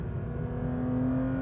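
A 2025 Porsche 911 GT3 992.2 heads into the pits on a racetrack with a steady, close engine drone and a humming, even tone throughout.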